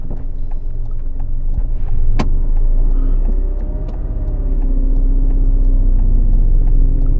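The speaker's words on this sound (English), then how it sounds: "as you hear the car rev, change up a gear" A learner driver's car engine during a driving lesson, a loud steady low rumble with a rising hum as revs build, one sharp click midway, continuous and close with no talk.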